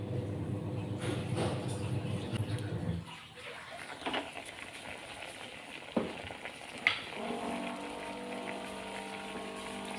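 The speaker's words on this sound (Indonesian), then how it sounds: "daging ayam ini kita goreng dulu." Chicken meat sizzles loudly in hot oil for shredded chicken with spicy sambal, then drops to a quieter bubbling broken by a few sharp utensil clinks.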